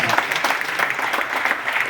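An audience claps steadily and densely at a gathering, a brief burst of even applause with no voices.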